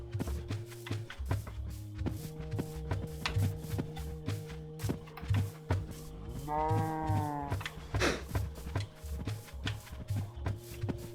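Cows moo in the Minecraft Bedrock video game among background music and rhythmic clip-clop footsteps, with one clear drawn-out moo near the middle standing above the steady game sounds.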